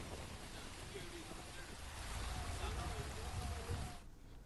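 Heavy rain pours down on waterlogged Bengaluru roads as a dense, steady hiss that holds throughout and drops away near the end, with a faint voice under it.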